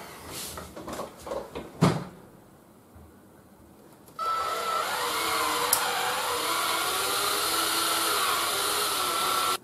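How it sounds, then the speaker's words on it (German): A cordless drill fitted with a 6 mm HSS bit bores slowly into plexiglass, first a few knocks and handling clicks, then a steady loud whirring drone that runs on without a break. "Um mit Plexiglas zu bohren, nimmt man HSS-Bohrer."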